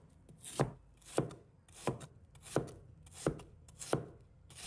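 A knife slices Chinese yam into thin slices on a cutting board, with eight evenly spaced, crisp chopping knocks close by in a quiet room.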